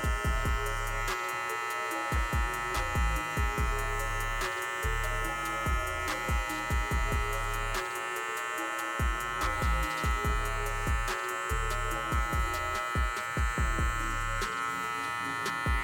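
Electric hair clippers buzz steadily while cutting a mid fade, a loud close motor drone with rhythmic ticking strokes and brief dips as the blade moves through hair.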